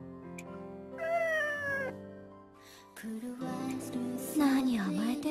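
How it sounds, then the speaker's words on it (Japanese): A black cat meows in the video game Nights of Azure, giving a couple of drawn-out, melodic cries over a backdrop of game music. "こいつはいつもの黒猫だな。"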